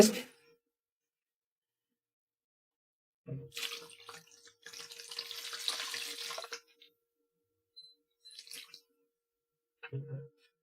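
Tap water runs over hydro-dipped leather in short intermittent bursts, a splashing faucet flow heard close up in a quiet room, with a few brief pauses between rinses.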